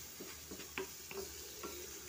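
Onion and tomato masala frying for dal, a soft, fairly faint sizzle under a steady hiss, with a few light scraping strokes as the mixture is stirred, no voices.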